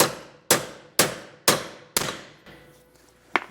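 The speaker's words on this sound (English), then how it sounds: "I'm just going to hammer this in." Hammer blows drive a MORryde ALLTREK 4000 shock absorbing equalizer part into a 2023 Jayco Jay Flight travel trailer suspension: five sharp, loud metallic clangs at steady half-second intervals, then a short pause and one more strike, with no talking.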